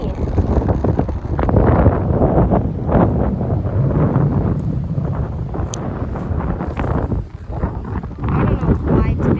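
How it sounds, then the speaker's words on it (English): Strong wind while fishing outdoors roars and buffets the microphone in a continuous loud rumble with uneven gusts, and a voice is partly buried beneath it. "it's so windy"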